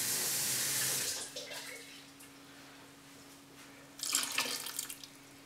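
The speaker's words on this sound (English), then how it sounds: "I'm just going to give the jar a little rinse and use that water as well." Tap water runs into an emptied sauerkraut jar in a home kitchen, a strong rush that quickly cuts off to a quiet hum, followed by a second short burst of splashing water as the jar is swirled and rinsed.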